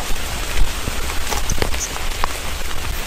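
Heavy midnight rain falls on a shelter, making a steady, close hiss of drops with scattered louder patters throughout and no talking.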